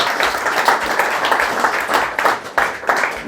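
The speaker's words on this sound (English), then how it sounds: "Please, let's clap her." A small group of people applauds a visitor with close, lively clapping in uneven bursts that swell and dip over a few seconds.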